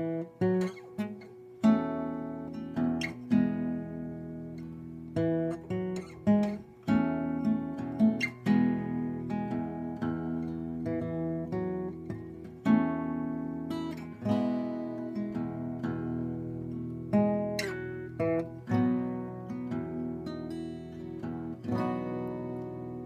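Fingerpicked acoustic guitar playing the verse pattern of a song, a steady repeating arpeggio of plucked notes over low bass strings, close and clear, with no voices.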